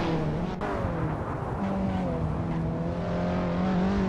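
An Abarth 500 laps the Prague circuit in the racing game Assetto Corsa, its engine droning loud and steady as the pitch climbs and shifts, with a brief sharp click near the start.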